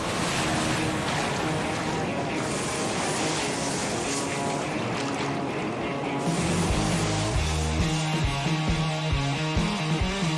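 Waves wash and churn around a boat out on the water for surfing, a loud, continuous rush of water and wind that later mixes with a rhythmic, chugging motor-like drone.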